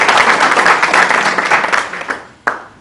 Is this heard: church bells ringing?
no